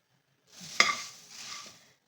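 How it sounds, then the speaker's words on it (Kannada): Puffed rice is stirred in a dry pan to heat and crisp it, giving a soft, brief scraping rustle with one sharper scrape of the spoon, quiet and close. "ಈ ಪುರಿ ನಾವು ಸ್ವಲ್ಪ ಬೆಚ್ಚಗೆ ಮಾಡ್ಕೋಬೇಕಾಗುತ್ತೆ, ಫ್ರೈ ಮಾಡ್ಕೋಬೇಕಾಗುತ್ತೆ."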